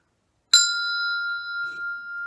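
A single bell struck once, its clear metallic tone ringing on and slowly fading over about two seconds in an otherwise quiet space.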